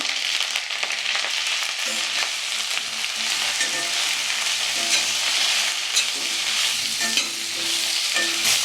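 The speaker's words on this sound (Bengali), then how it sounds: "তেল গরম হয়ে গিয়েছে, ফুলকপিগুলো এখন ছেড়ে দিচ্ছি।" Cauliflower pieces sizzle in hot oil with turmeric in a new wok, a dense continuous crackle with occasional stirring clinks and scrapes, close and steady throughout.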